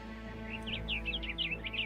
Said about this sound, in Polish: A to jest kozackie, jak oni ćwierkają te ptaki.